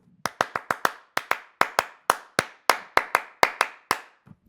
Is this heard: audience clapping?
yes